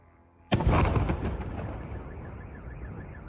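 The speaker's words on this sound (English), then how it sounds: "There was an explosion over there and now smoke is rising." A sudden heavy explosion from a drone strike near a power plant, a sharp loud blast followed by a long rumbling roar and echo that slowly fades, with no voices.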